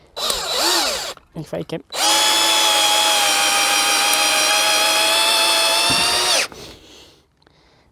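A LIDL Parkside cordless impact driver runs without its brake in one long continuous high whine of about four seconds, preceded by short bursts and a brief spoken remark.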